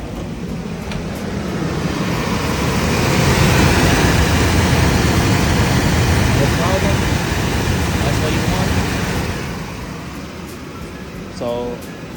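Heater blower motor in a BMW E34 running just after installation with the cabin open, a steady broad whooshing hum that rises and holds, then eases off, with someone talking over it.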